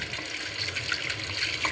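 Water pours steadily into a pan of tempered buttermilk curry, a close, even splashing hiss with no break and no voices.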